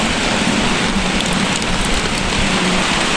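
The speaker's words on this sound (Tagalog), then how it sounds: "Hindi na masyadong mahangin. Ulan na lang." Steady rain pours down outdoors in a dense, even hiss of drops striking surfaces, close and constant throughout with no wind gusts or voices.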